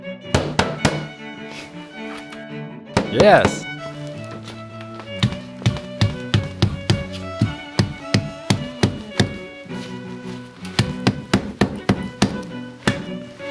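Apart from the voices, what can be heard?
frozen banana hammering a nail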